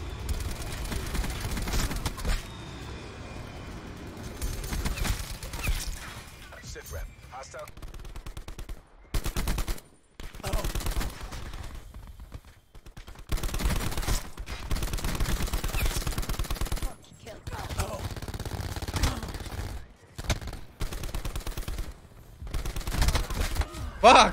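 Bursts of gunfire from a gun fitted with a hybrid magazine in a first-person shooter match, loud and rapid in repeated volleys separated by short silent gaps, with a voice talking between and over the shots.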